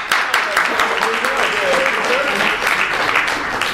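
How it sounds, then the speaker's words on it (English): An audience at a comedy festival show gives a round of applause, steady close clapping throughout with a voice speaking faintly underneath. "let's give a round of applause"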